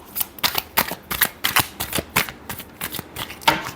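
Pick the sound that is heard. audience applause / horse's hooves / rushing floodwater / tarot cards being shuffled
tarot cards being shuffled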